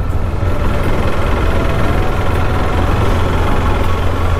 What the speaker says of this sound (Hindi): थोड़ा सा आज इंजन को रेव करते हैं